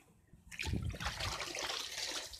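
Water trickles and splashes close by. A soft gush starts suddenly and keeps running steadily.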